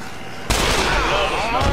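Explosion in the video game Dead Island: a sudden loud broadband blast bursts in after half a second of quiet, then rumbles and crackles on for over a second with a second smaller burst near the end.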